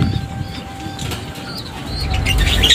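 Pigeons beating their wings in brief loud flaps, near and clustered, with faint bird calls around and no talk.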